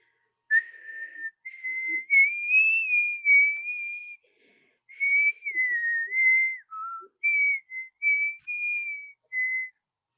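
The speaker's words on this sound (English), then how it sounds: "whistling a song that he hadn't thought of in years" A man whistles a song alone: a clear, melodic tune in short phrases separated by brief pauses, fairly close and steady in loudness, with no talking.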